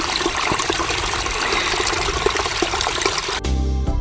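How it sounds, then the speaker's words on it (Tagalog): Water is fetched in a steady, loud rush and splash of flowing water that runs continuously. It cuts off abruptly near the end. "Ito lang ba talaga ginagawa mo? Mag-iigib ng tubig?"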